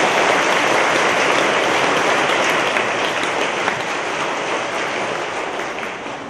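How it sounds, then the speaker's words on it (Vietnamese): A church congregation breaks into steady, dense applause that fills the room evenly and slowly tapers off at the end. "Vỗ tay Ngài một cái."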